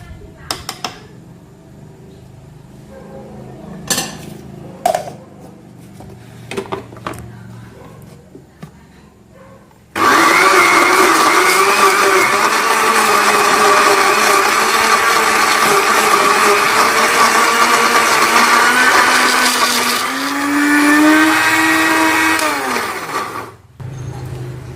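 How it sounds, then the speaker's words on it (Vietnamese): A blender grinds fish with shallots and chili into a smooth paste for fried fish balls, a loud steady motor whir starting suddenly and running for about fourteen seconds, its pitch dipping toward the end before cutting off. "bây giờ mình sẽ xay lại tiếp để cho nó nhuyễn ra."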